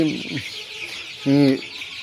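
A flock of young Sonali chickens, about 25 days old, clucks nearby in two short, bright bursts, one at the start and a louder one near the end, over quiet barn background.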